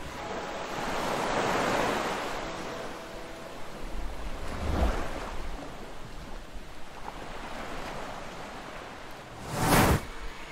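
Atlantic Ocean surf crashing against towering sea cliffs at the Cliffs of Moher, Ireland: broad rolling wave washes swell and recede, with a sharp, loud breaker near the end and wind noise throughout.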